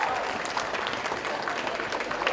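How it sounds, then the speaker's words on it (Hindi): Audience applause at a reunion gathering, a dense steady wash of clapping from many people throughout, fairly loud and close. "जोरदार ताली बजाते हैं सब दफा मिलकर सबको।"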